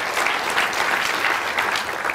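Steady, dense applause fills a comedy debate hall as the audience claps for a panel member, even and sustained throughout.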